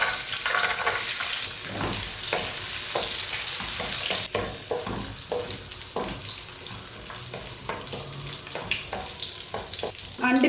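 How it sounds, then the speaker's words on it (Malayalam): A handful of cashew nuts frying in hot ghee in a pan for Kerala-style chicken biryani, a loud steady sizzle broken by scraping stirs and spoon knocks, with no one speaking. "നെയ്യ് ഒന്ന് ചൂടായി വരുമ്പോൾ അതിലേക്ക് 1 പിടി അണ്ടിപ്പരിപ്പ് ഇട്ട് കൊടുക്കുക"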